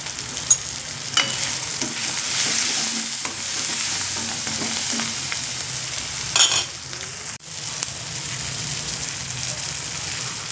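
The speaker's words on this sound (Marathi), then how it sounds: "हे आपली फोडणी छान झालेली आहे" A tempering with turmeric sizzles in a pan for sprouted moong usal, a continuous close frying hiss broken by stirring scrapes and a few sharper clatters.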